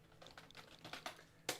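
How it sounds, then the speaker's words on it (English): Someone types on a computer keyboard plugged into a Nintendo Switch, giving a short, quiet run of close keystroke clicks at an uneven pace with one sharper tap at the end. "I did decide to plug my keyboard into my Switch"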